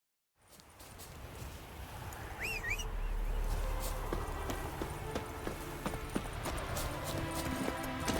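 Roach the horse galloping in The Witcher 3, with steady rhythmic hoofbeats that build in after a brief silence and continue close and prominent over ambient game sound and occasional bird calls.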